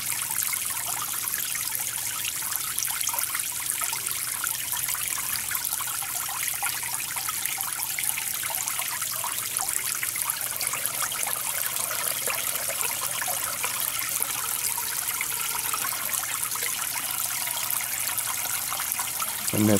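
Water trickles steadily over the rim of a standpipe inside an aquaponics bell siphon, a continuous close splashing dribble with no talk.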